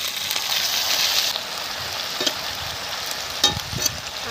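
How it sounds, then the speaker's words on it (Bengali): Malabar spinach hits a pan of fried potatoes with turmeric and salt, a loud burst of sizzling that settles into steady frying, with a couple of sharp stirring clacks. "এবারে আমি দিয়ে দেবো পুঁই শাক"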